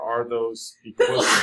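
A single sharp sneeze bursts out in a classroom, breaking between stretches of a teacher's speech, brief and fairly close.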